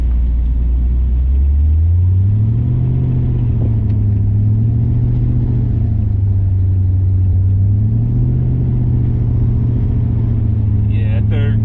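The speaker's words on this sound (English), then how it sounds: "that third gear sounds mighty horrible" Supercharged Ford Coyote V8 swap car accelerating hard and loud, engine droning up and down in pitch through a rough, ragged third-gear shift, close and steady throughout.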